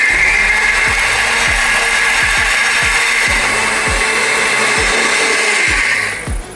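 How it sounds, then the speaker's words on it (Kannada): A Borosil smart mixer grinder runs steadily and loudly while grinding sambar ingredients, with a rhythmic knocking of contents against the jar throughout and a brief easing off at the end. "ಇವತ್ತು ನಾವು ನಮ್ಮ ಸಾಂಬಾರನ್ನ ಮಾಡೋದಕ್ಕೆ ಯೂಸ್ ಮಾಡ್ತಾ ಇದೀವಿ ಬೋರೋಸಿಲ್ ಅವರ ಸ್ಮಾರ್ಟ್ ಮಿಕ್ಸಿಯನ್ನ."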